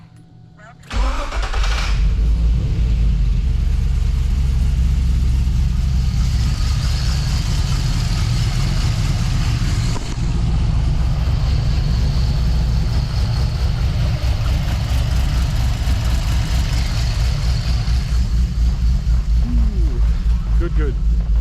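A car engine cranks over on a newly installed starter motor, then catches and settles into a steady, loud, close idle that runs on continuously.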